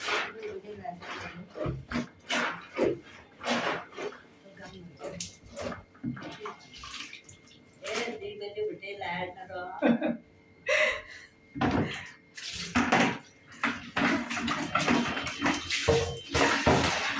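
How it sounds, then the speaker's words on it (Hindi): Clothes are rinsed by hand in a bucket of water, with repeated sloshing splashes and wet slaps in short bursts close by, while someone talks throughout. "लेकिन ये सिर्फ खंगालने हैं तो इसलिए मैंने सोचा यहीं पर आके खंगाल देती हूँ"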